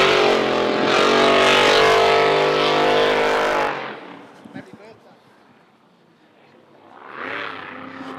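A race car on its cool-down lap after the checkered flag at the Windsor Spectacular practice; a loud, sustained engine roar dominates the first few seconds, then falls away to quieter track ambience before engine noise swells again.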